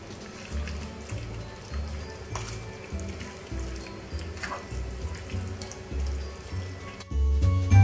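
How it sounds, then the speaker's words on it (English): Tap water runs steadily into a sink as salted cabbage for kimchi is rinsed, a continuous close wash with a louder burst of splashing at the end. "wash your cabbage properly. Remove the salt."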